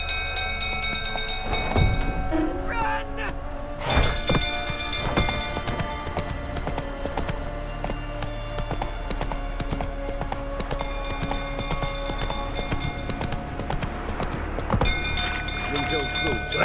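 A horse's hooves clip-clop at a steady gallop in The Witcher 3 video game, rhythmic and close, with game music and spoken dialogue over the top.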